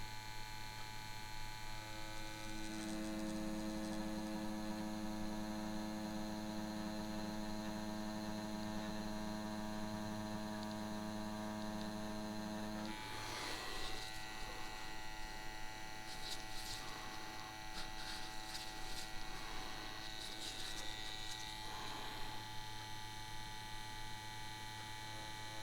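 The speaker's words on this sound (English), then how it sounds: "you can hear that the machine is really struggling to get this line in." An Xnet Vipera/Bestia tattoo machine runs with a steady electric buzz and hum, its pitch shifting partway through as the machine strains and struggles under load while pulling a line, heard close and continuous with no talking.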